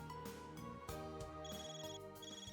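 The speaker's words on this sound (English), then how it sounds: "Phone call." A phone in Trails Beyond The Horizon rings with a tinny, repeating melodic tone over a busy musical background, moderately loud and steady, with no talking.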